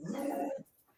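A dog gives a short, close whimper or yelp lasting about half a second, then fades into quiet background noise.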